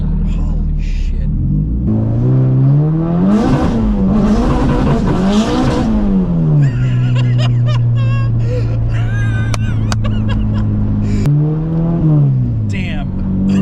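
K24-swapped Scion FR-S engine and exhaust revving hard through the gears, rising and falling loudly up close as shifts break the pitch climbs, with a voice briefly over the engine.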